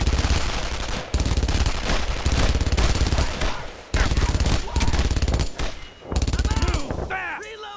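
Enemy machine gun fire crackles in long, loud bursts during a World War II battle in Brothers in Arms, with short gaps between volleys and shouted commands over the gunfire.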